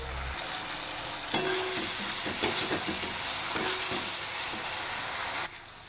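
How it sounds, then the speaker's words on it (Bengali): Fried taro pieces being sautéed in spice paste in a pan for a taro and fish dish, a steady sizzle broken by several sharp scraping clinks of the spatula, close and alone without talk. "কচু দিয়ে মশলাটা ভালো করে কষিয়ে নিয়েছি"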